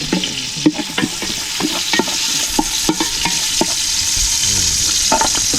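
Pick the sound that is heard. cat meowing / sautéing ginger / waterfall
sautéing ginger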